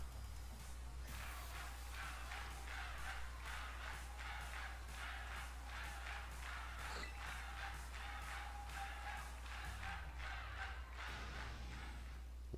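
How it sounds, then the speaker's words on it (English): Video game concert crowd in Pokemon Violet cheers in a steady, rhythmic roar with periodic swells, set over a constant low hum and continuing without talk. "This crowd's so loud it could wake the dead."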